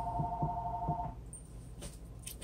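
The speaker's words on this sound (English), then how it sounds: "my house phone is going to start ringing" A landline house phone rings briefly with a steady warbling tone over low background hum, then stops, leaving faint household noise and soft knocks.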